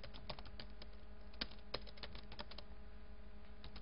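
Fast typing of C++ code on a computer keyboard, a dense, uneven patter of soft close key clicks with a few sharper strokes, quiet and with no talk.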